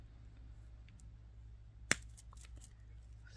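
A single sharp snip of wire cutters through jewelry wire while making a Larimar necklace spiral, one crisp quiet click against a low steady hum, with a few faint small handling ticks around it.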